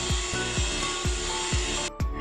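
An electric mixer beats cake batter after vanilla essence is added for an oven-free black forest cake, a steady whirring drone with regular rhythmic thumps about every half second as the beaters knock the bowl, close and fairly loud.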